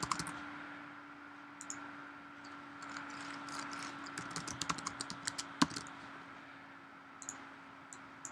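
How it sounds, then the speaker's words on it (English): Keys clatter on a computer keyboard in a steady run of quiet, close clicks, with a few sharper taps standing out, and no talking. "So you can just type anything in here."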